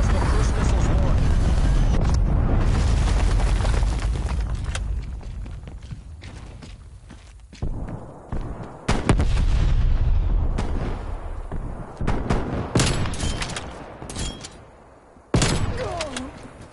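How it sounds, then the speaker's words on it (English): Cruise missile strike in the video game Call of Duty Cold War, a loud roaring blast rumbling for several seconds, then a few sharp gunshot-like bangs and further booming impacts. "Cruise missile inbound."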